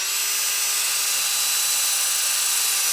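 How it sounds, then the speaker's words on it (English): A power drill fitted with a sanding disc whirs steadily against a wooden platter, a continuous high-pitched motor whine with a faint grinding rasp, loud and close, running unbroken throughout. "I've got my drill in a trailing position."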